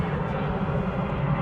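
A fixed-wing airplane flies overhead during a winter radiator check, its engine a steady, continuous broadband drone that stays loud and even throughout, with no talk over it.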